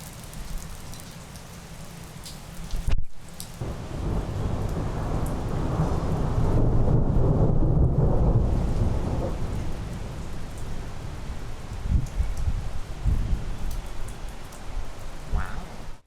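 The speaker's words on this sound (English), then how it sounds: "we had a pretty extreme storm last night" An extreme night storm, heavy rain pouring steadily with a loud thunder crack early on and long rolling rumbles swelling and fading, no voices.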